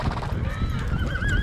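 Horses on a cattle drive in the American West whinny and neigh in rising calls over a quick clip-clop of hooves, close by and lively.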